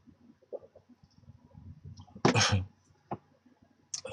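A single loud sneeze bursts out near the microphone during a live broadcast, a sharp breathy blast lasting about half a second, preceded by faint rustling and small clicks and followed by a couple of soft taps.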